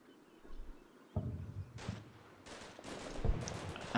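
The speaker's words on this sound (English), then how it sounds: "He is continuing to shoot up the Alpha buildings with the Bradleys" Bradley fighting vehicles firing on buildings in Combat Mission Shock Force 2, a series of distant, sharp bursts of gunfire starting after a quiet moment and growing denser, with no voices.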